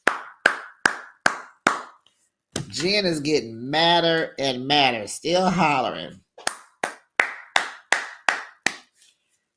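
Someone claps steadily during a heated argument, bursts of close handclaps on either side of a stretch of talking.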